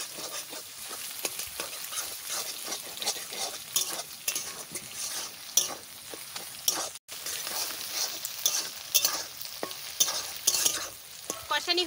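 Egg frying and being stirred in a pan for fried rice, a continuous close sizzle with busy scraping of a spatula against the pan, no talking.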